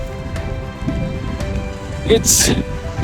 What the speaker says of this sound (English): Now it's raining a lot, so I'm gonna put the camera down